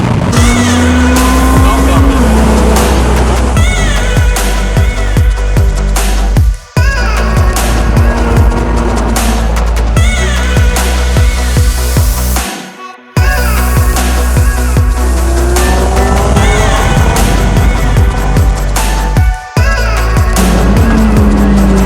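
A McLaren 720S races another car. Loud engine roar fills the clip with rising and falling revs and sharp gear shifts, cut by brief pauses, and there is tire squeal and wind noise close to the mic.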